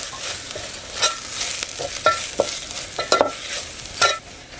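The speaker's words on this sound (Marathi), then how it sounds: "आता परतून घेऊया व्यवस्थित" A spoon scrapes and stirs chicken masala spices frying in a pan, with irregular scraping strokes over a soft continuous sizzle, close and clear with no talking.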